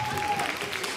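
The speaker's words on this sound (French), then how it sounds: "Applaudissements, ouais." A festival crowd claps in a brief burst of dense applause, with a voice speaking over it.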